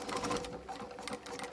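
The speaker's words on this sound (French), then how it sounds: "Là elle coud, alors vous voyez je peux aller tout doucement ou je peux aller plus vite." A JACK A5-WQ industrial sewing machine stitches at a steady pace, its rapid rhythmic needle clatter and motor hum close and continuous throughout.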